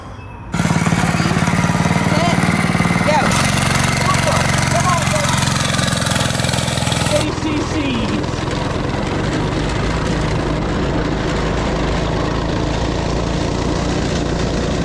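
A cheap 10HP diesel engine on a go kart runs loud and close with a steady, rough mechanical drone, easing slightly partway through as the kart drives on, with faint voices underneath.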